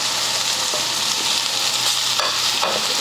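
Boiled potato filling is stirred in a hot pan for a veg roll, a continuous soft sizzle with faint scraping, close up and without speech.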